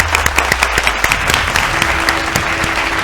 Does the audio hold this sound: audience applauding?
yes